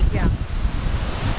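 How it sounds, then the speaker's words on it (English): Strong outdoor wind buffets the microphone near a pond, giving a deep, continuous rumbling roar throughout, loud and close, with a brief spoken word over it. "it's really windy out here"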